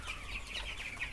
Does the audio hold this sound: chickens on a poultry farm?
yes